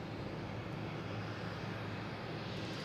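A JetBlue Airbus A321 on its takeoff roll produces a steady, distant broadband roar of jet engines, holding constant and unbroken without voices.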